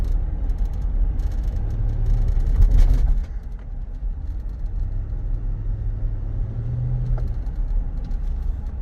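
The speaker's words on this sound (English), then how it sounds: "You're gonna hear typical creaks." Cabin sound from a 2003 Land Rover Discovery SE on the road, a steady loud engine and road rumble with faint intermittent creaks, rising briefly before settling into a constant drone.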